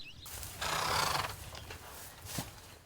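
Horses at a ranch outside Tucson give a loud, close whinny that rises and trails off, followed by snorts and shuffling hooves in the background.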